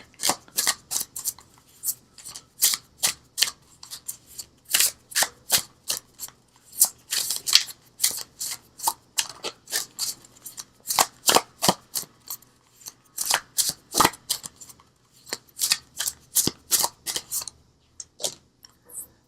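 A Mother Wisdom tarot card deck is shuffled in long runs of crisp, rapid riffling bursts, loud and close, separated by brief pauses, with no talking.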